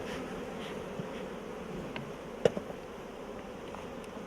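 Honey bees buzz steadily during a beehive inspection, a continuous close hum with a few faint clicks and a brief tap partway through, and no talk.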